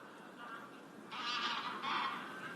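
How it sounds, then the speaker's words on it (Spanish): Faint honking from a group of geese, with a couple of louder honk bursts over a soft background hiss. "Estos gansos, sin embargo, llegan en invierno"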